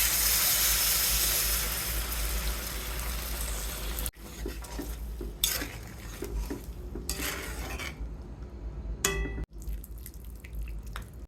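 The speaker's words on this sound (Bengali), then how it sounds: "এখন দিয়ে দিব গরম জল" Hot water poured into a frying pan for a home-style curry, a steady broadband hiss and sizzle for the first four seconds, then clinks of a utensil stirring and scraping the pan amid softer bubbling.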